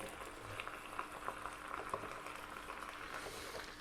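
Orecchiette pasta dropping into a pot of boiling water with tomato and basil, a faint continuous bubbling and light pattering with occasional soft splashes, no voices.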